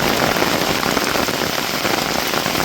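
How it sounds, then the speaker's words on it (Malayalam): Heavy summer rain pours steadily onto surfaces in a dense, loud, continuous hiss of drops, close and unbroken, with no voices. "അടിപൊളി മഴയാണ്."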